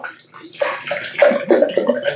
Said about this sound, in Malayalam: നമ്മള് വെള്ളം അങ്ങോട്ട് ഒഴിക്കുക